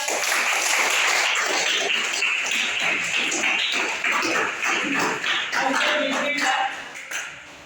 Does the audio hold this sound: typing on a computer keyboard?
no